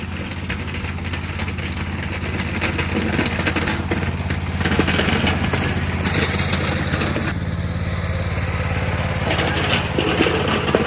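Vintage Toro Wheel Horse C-145 hydrostatic garden tractor, repowered with a Predator 420cc engine, running steadily and loud while plowing snow, a continuous engine drone with shifting load as it works back and forth.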